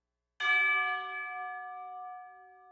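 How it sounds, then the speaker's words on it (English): One tubular bell from a Spitfire Audio orchestral sample library is struck once after a moment of silence, a clear, pure metallic tone that rings on and slowly fades. "Tubular bells."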